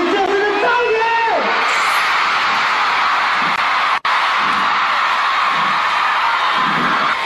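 Dense concert crowd at a pop show screaming and cheering in a loud, continuous wall of shrill voices, with a brief dropout partway through and rhythmic surges beneath.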